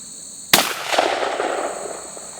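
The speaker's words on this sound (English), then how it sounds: "I'm going to shoot towards the bottom where it's most open" A single loud shotgun blast, fired with a modified choke at a cardboard target 15 yards away, cracks sharply and then rolls off into a long echoing decay outdoors.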